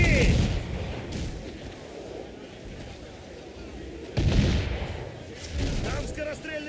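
Heavy booming cannon blasts in the video game Assassin's Creed IV: Black Flag burst out at the start and again near the end, with rumbling battle noise and shouting voices in between.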